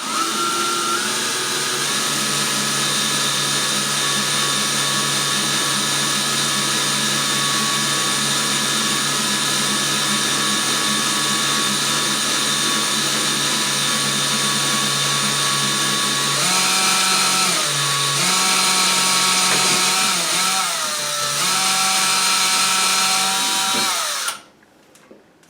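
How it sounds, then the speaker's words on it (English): A power drill bores slowly through bathroom wall tile to mount a vanity cabinet, with a steady close whine that holds for about sixteen seconds, then dips and surges several times before cutting off abruptly. "when you're drilling a tile, you want to drill very slowly"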